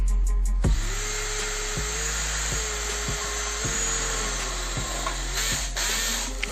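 A Worksite CD334H cordless hammer drill drives a screw at a low torque setting, a steady high motor whine running for several seconds with small clicks and shifts in pitch before stopping abruptly, close up.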